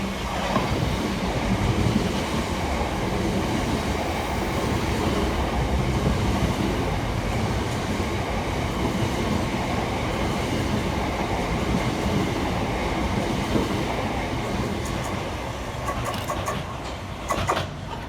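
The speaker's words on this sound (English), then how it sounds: "Passing fast through the station under the head code 5P46 from Stuarts Lane TRSMD to London Bridge is 377621 and" Two coupled Southern Class 377 electric units, 377621 and 377626, run fast through South Bermondsey station, a loud, sustained rumble and rail roar with rhythmic wheel clatter that fades slightly toward the end.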